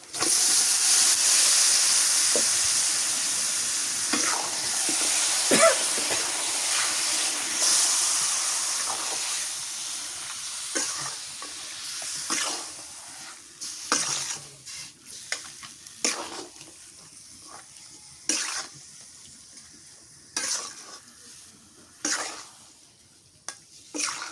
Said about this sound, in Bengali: কষানো হয়ে গেছে এখন মাংসটা দিয়ে দিই